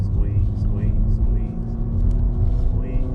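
A car engine drones steadily and loudly on a race track during a warm-up lap, with the driver on the gas and a voice talking faintly over the constant rumble.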